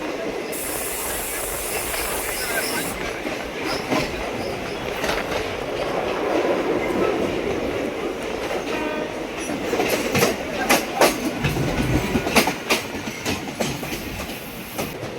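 The 12363 Haldibari Superfast Express runs from Kolkata towards Tarapith, heard from on board as a steady rumble and hiss with rhythmic clickety-clack of wheels on rail joints that grows more pronounced toward the end.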